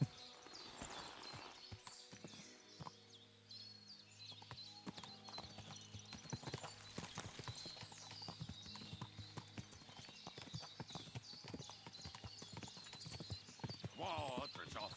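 Horse hooves clip-clop steadily in Kingdom Come: Deliverance II on PS5, a continuous walking rhythm of sharp knocks heard close up, with a brief whinny, game music and intermittent talk over the top.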